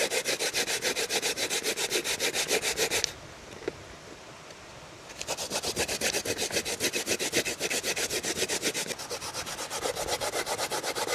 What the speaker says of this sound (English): I grate up the coconut now.